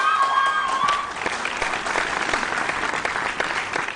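At a school science quiz competition, the audience bursts into loud, sustained applause for a student team, with dense clapping and crowd noise filling the hall throughout.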